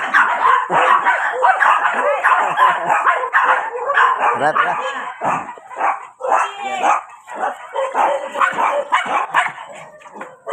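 Several small dogs bark and yip rapidly in high, sharp bursts, close by and nearly continuous, while a person laughs and calls out between them.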